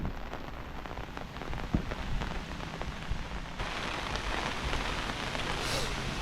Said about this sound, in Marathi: चला येऊया पटकन जाऊन पाऊस बघा काय येता तो